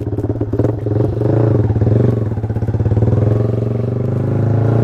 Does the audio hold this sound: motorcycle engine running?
yes